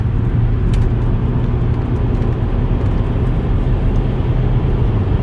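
Low, steady engine drone of a 2011 Saab 9-3 2.0t wagon accelerating at half throttle through a tight S-curve at night, with road and wind noise heard from inside the cabin and no voices.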